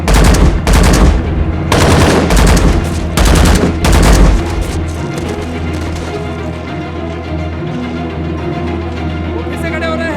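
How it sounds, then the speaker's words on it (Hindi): Heavy gunfire in an action-movie scene, with several loud, dense bursts in the first half that give way to a lower, sustained rumble of score and effects. "गोली मारो,"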